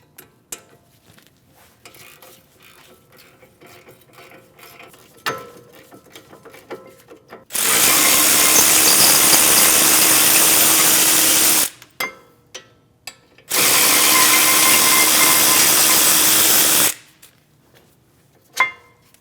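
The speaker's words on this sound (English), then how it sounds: "Using a 16mm socket, remove the 2 caliper bracket bolts." Two long, loud, steady bursts of a power tool with a 16mm socket loosening the caliper bracket bolts on a 2010-2015 BMW X1 xDrive front brake, close by, with quieter clinks and handling noises around them and no talking.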